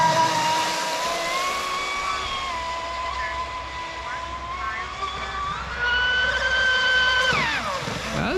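A radio-controlled boat's electric motor driven at full throttle across a pond, a steady high-pitched whine with shifting tones that rises and swells toward the end, heard alone at moderate distance.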